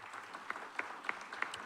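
A town hall audience applauds the officers, a soft, distant spatter of clapping that runs the full length at a low, even level.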